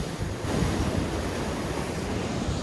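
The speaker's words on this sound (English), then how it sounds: "one of those rogue waves came through" Rough ocean surf surges and crashes against a rocky St. Croix coastline, a loud continuous roar of breaking water with heavy wind buffeting the microphone and no talking.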